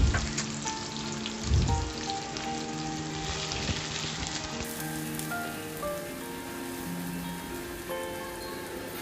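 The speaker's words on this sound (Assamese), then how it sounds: "আমি এই ৰৈ যোৱা পিঁয়াজখিনি তাত দি দিলোঁ। এতিয়া আমি এইখিনি ভালদৰে লাৰি ল'ম।" Sliced onions fry and get stirred in a pan for an Assamese bitter gourd dish, a close, continuous crackling sizzle with a few louder scraping stirs and faint tonal background, no speech.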